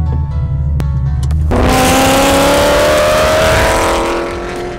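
A 1000-horsepower Shelby GT500 Super Snake launches at full throttle, its engine note climbing loudly and steadily from a low idle as it accelerates hard and close by, with tire noise under the roar.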